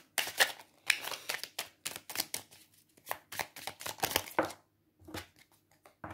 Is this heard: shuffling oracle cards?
yes